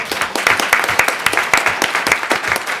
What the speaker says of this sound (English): So a round of applause for this panel